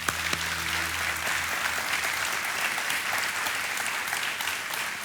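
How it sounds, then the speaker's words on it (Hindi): A television game-show studio audience breaks into loud, sustained applause, a dense even clapping that carries on steadily for several seconds without talk over it. "एक बार तालियों के साथ।"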